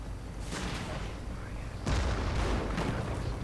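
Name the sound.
rifle grenades and PIAT fire in a video game battle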